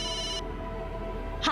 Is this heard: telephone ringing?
yes